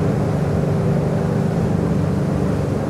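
Steady low rumble of a 2007 Riviera 3600 Sport Yacht engine slowing down through about 2700 rpm, with broadband water and hull noise, continuous and fairly loud with no voices.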